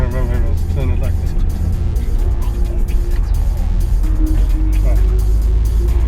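A car being driven, heard from inside as a loud, steady low engine and road rumble with no pauses, while people talk over it.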